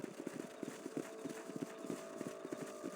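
Horse hooves clip-clop at a steady walking pace while riding in the Western video game Red Dead Redemption, the beats close and evenly spaced under low background ambience.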